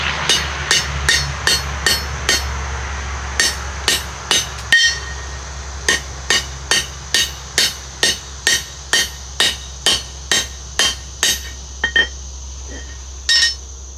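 Steady hammer blows ring out one after another, sharp metallic strikes at an even pace with a brief pause midway, close and loud.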